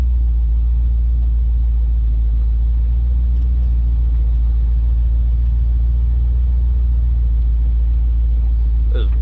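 A 1956 Dodge engine fitted with new mufflers idles and creeps forward, a loud steady low rumble that stays even throughout.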